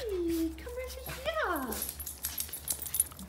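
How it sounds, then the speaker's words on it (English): Small dogs at home give high, wavering whimpers followed by a short burst of sliding yips, close and moderately loud, with soft background noise and brief human sounds after. "These are my mum's dogs."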